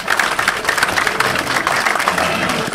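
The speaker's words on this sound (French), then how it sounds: "Vous pouvez l'applaudir." A municipal council meeting applauds its oldest member before the mayoral election, with dense, steady clapping from a roomful of people throughout.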